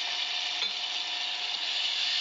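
Dissolved tamarind and sugar stirred in a pot, a steady soft hiss and bubbling simmer with faint scraping, close and continuous, no voices.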